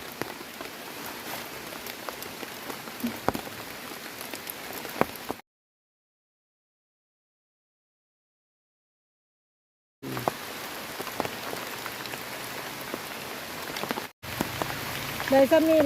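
Steady rain patters and drips on a surface, with scattered sharper drops; the sound cuts out briefly midway, then resumes.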